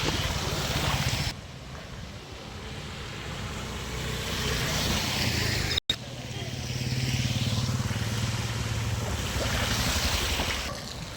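Rainwater rushes along a road flooded into a canal after a short downpour at Adda Kot Fatuhi, a loud, steady broadband wash with a low rumbling undertone and a brief dropout midway.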